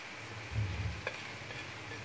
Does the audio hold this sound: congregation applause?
no